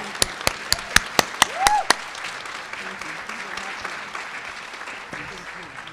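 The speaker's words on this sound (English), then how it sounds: "can you please help me by giving her a round of applause? Give her a standing O." Audience in a performing arts center applauds during a standing ovation: several loud, distinct claps up front, then a softer, continuous wash of crowd clapping and murmur fading behind.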